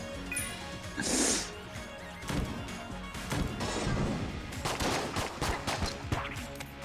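Gunfire in a video game: dense bursts of rapid shots and crashing impacts, loud and continuous throughout.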